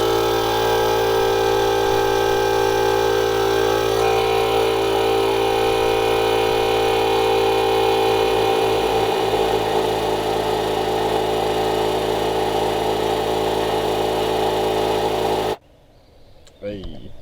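A Wolfbox 3000A jump starter and tire inflator's compressor runs loud and close with a steady droning whine for about fifteen seconds, then cuts off abruptly into near quiet.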